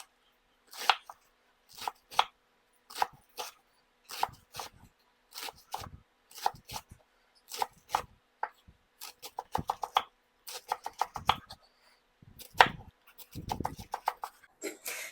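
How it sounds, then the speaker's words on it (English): A knife thinly slicing a head of cabbage on a cutting board: quick bursts of crisp, close chopping strokes in irregular runs, with short pauses between. "I'm just gonna thinly slice this cabbage"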